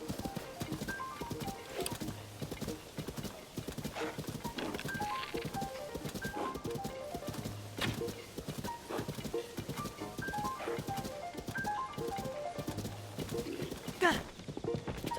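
Horse hooves clip-clop in a steady rhythmic trot in the video game The Legend of Zelda: Tears of the Kingdom, fairly quiet, with game music and a person speaking intermittently over it.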